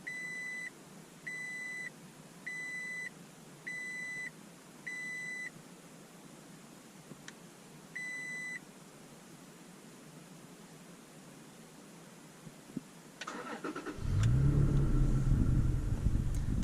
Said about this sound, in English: the truck will start without you having your foot on the brake